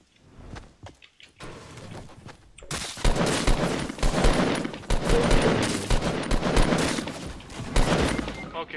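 Rapid bursts of gunfire from a Fortnite battle royale match, loud and dense from about three seconds on after a quieter, sparse start, with a voice talking faintly beneath the shots.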